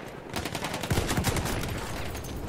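Rapid bursts of gunfire from the video game Battlefield 1 crackle close and loud in quick succession, a dense volley of shots with no voices over it.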